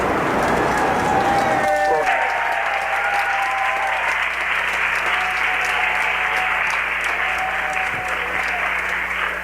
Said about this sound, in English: stay tuned for a big cheer from Canterbury